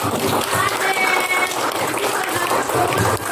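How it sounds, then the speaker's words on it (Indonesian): Applause from a school classroom, steady broadband clapping from many hands sustained for a few seconds at moderate loudness, with faint voices mixed in. "Aplaus dulu"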